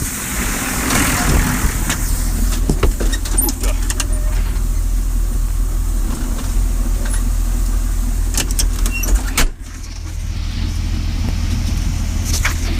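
A vehicle slowly backing up while loading corn for sale, its engine running steadily at close range with low rumble and scattered clunks, and a brief dip near the end.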